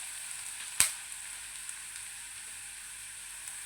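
Onions sauté in a pan for kadala curry, giving a steady soft sizzle throughout, with one sharp utensil clink early on and a few faint ticks after.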